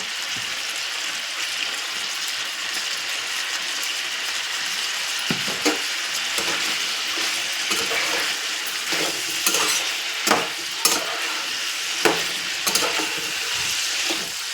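Chicken legs fry in a pan with turmeric, a continuous close sizzle with spatula scrapes and clicks growing more frequent toward the end.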